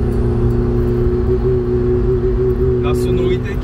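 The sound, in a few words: naturally aspirated car engine running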